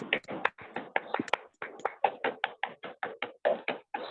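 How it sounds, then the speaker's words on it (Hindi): Close, crisp hand claps welcome a guest at the start of a beauty workshop, about eighteen claps in four seconds, spaced fairly evenly and with gaps between them, like a few people clapping rather than a large crowd. "सभी लोग जोरदार तालियों के साथ मैम का स्वागत करते हैं"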